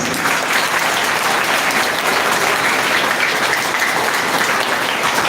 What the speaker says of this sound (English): Clap for them, please.